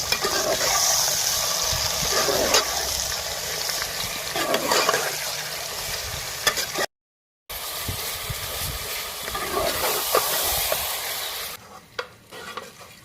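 Chicken pieces and onions frying in ghee in a karahi, a steady close sizzle with frequent stirring scrapes throughout, briefly cut off partway, then continuing before easing near the end.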